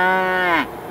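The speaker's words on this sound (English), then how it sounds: "Sounds like those cows need to be milked." A cow on a farm in Victoria gives one loud, close moo that holds steady and then drops in pitch before cutting off, with nothing else heard.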